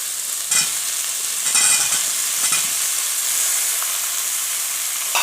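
Potatoes and peas fry in a hot pan for pea kurma while a spoon stirs them, giving a loud continuous sizzle with a few scraping strokes and no voices.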